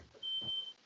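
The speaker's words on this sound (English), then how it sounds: "it was my sister's fire alarm" A home fire alarm in a sister's house gives one thin, steady high-pitched beep lasting about half a second, faint and heard from another room.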